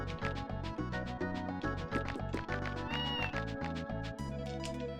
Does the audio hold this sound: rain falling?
no